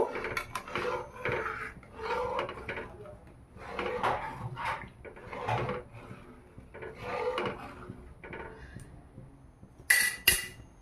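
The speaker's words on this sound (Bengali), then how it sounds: "এবার এটা হালকা আঁচে কিছুক্ষণ ধরে নেড়ে চেড়ে এটাকে আমি ঘন করে নেব" A spoon drags and scrapes rhythmically around a pot of chhanar payesh with cardamom simmering on low heat. The strokes are repeated and close, with a brighter clink near the end and no voices.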